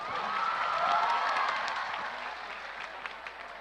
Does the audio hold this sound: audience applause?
yes